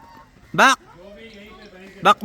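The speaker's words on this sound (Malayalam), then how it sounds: "താറാവ് നമ്മളെ തേടി വന്നിരിക്കുകയാണ്" Loud honking calls from ducks at Birsa Munda Zoo in Jharkhand, one burst early and another near the end, with quieter background sounds between.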